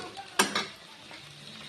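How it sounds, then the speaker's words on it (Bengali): Prawns fry in a pan with a faint, soft sizzle, marked by a few sharp scraping stirs of a utensil near the start and again at the end. "এভাবে করে আমি সব মাছগুলো ভেজে ফিরে আসছি।"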